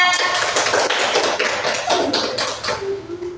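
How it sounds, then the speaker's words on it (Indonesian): Clapping hands from a group in an Indonesian elementary science classroom simulation, a steady burst of applause filling the room and tapering off near the end. "Tepuk tangan buat Mbak Linda."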